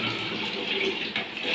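Steady running water gushes and splashes over a dog being bathed, a close, continuous rush with one brief dip in level.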